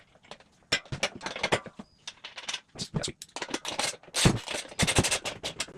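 Washers and a nut being fitted and tightened onto the wheel axle of a CT200-U motorbike: rapid metallic clicks and ratcheting bursts close up, pausing briefly before resuming.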